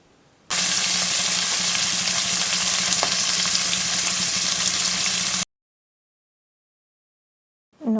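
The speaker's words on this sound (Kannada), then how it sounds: "ಈರುಳ್ಳಿ ಸ್ವಲ್ಪ ಕಲರ್ ಚೇಂಜ್ ಆಗಬೇಕು, ಅಲ್ಲಿ ತನಕ ನಾವಿಲ್ಲಿ ಫ್ರೈ ಮಾಡಬೇಕು." Onions and curry leaves sizzle steadily in a hot pan, a loud, dense frying hiss that runs unbroken for about five seconds, then cuts to silence before a brief burst returns at the end.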